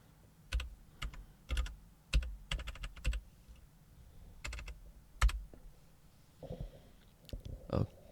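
An IP address being typed on a computer keyboard: soft, close key clicks in short irregular bursts with pauses between, quiet and alone, plus a brief faint voice near the end.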